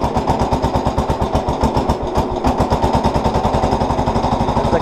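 A 1964 Cub Cadet 100 garden tractor engine runs after starting, firing in a steady rapid chug that stays loud and close throughout, with no voices over it.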